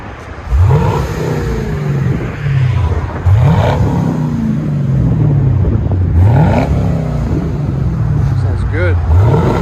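Chevy Camaro SS with a 6.2L V8 and Flowmaster Flow FX exhaust, heard from inside the car accelerating hard through repeated gear pulls, each rising roar dropping at the shift, loud and close, with voices underneath.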